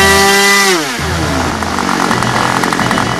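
A small model airplane engine on a combination Yak and Spad build runs loud and close, its high buzzing whine sliding down in pitch before settling into a rough, steady rasp.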